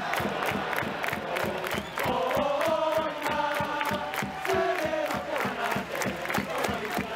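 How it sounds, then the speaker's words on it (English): A stadium crowd cheers loudly at a Yokohama BayStars baseball game, with rhythmic chanting and sharp, regular beats of drums or clappers repeating steadily throughout. "when something good happens, like a home run from the home team, the intensity of the cheering reaches fevered levels and doesn't really stop"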